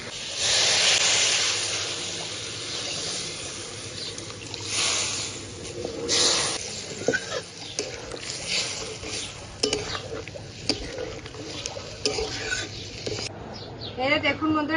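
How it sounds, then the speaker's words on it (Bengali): Water poured into a pan of desi egg and potato curry hisses in a loud sizzling burst, settling into a softer simmer broken by scattered spoon scrapes and clicks. "এবার পর্যাপ্ত পরিমাণ জল দিয়ে দেবো"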